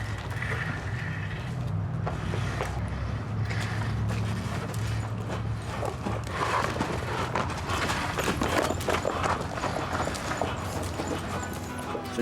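A horse moves around an arena with steady hoof clops over constant low rumble and background noise, faint voices now and then.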